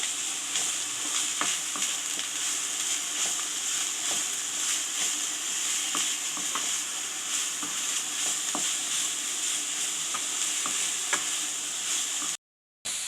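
Grated carrot and thinly sliced cabbage sautéing in a pan for egg cabbage rice: a constant close sizzle with regular spatula scrapes and ticks throughout, briefly cutting out near the end, no voices.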